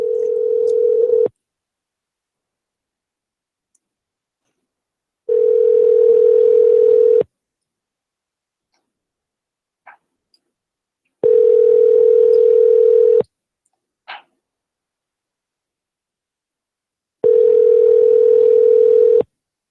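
A telephone dial tone while a call is placed, a steady pure beep sounding in long bursts of about two seconds separated by silences, with a couple of faint clicks in the gaps.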